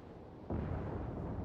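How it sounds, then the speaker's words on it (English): A ship's guns fire in a naval battle video game, a sudden heavy boom that swells into a sustained, rumbling roar, loud and fairly close. "That's a little bit of gunfire coming out."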